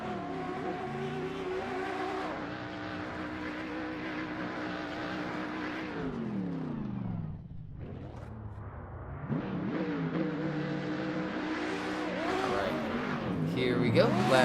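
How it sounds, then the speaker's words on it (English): The engine of a Nissan S14 drift car revs and falls repeatedly as it warms its tires at a Road Atlanta drift event, with rising and falling engine pitch. A commentator talks over it throughout. "you see Andreas warming the tires of his S14"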